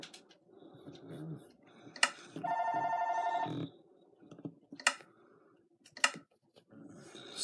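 Telephone in a Minecraft Pocket Edition game rings in one loud, steady electronic burst of about a second, standing alone amid quieter game sounds and thumps.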